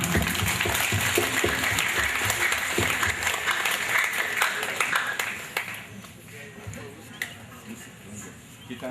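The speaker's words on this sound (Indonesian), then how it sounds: "Kita tepuk tangan semua." A church congregation applauds during a priest's first Mass at a parish in Aek Nabara, Medan: dense, loud clapping from many people that thins and fades in the last few seconds, with background voices.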